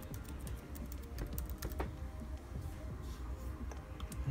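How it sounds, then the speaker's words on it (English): Fingers typing a password on a MacBook keyboard, a quick series of soft, close key clicks over a low steady background hum, with no talking. "so just type the password in again"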